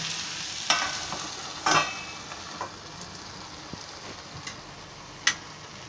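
Potatoes and green capsicum cooking in a pan for a Maharashtrian bhaji, with a steady faint sizzle broken by a few sharp scrapes and clinks of a spoon stirring, the loudest near the start and one near the end.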